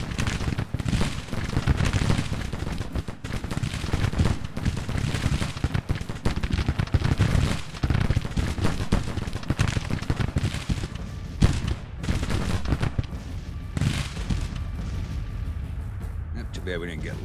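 Massed musket and cannon fire fills a Civil War battle in the strategy game Grand Tactician: The Civil War, a dense, continuous crackling roar with deep booms throughout. Someone talks quietly beneath it.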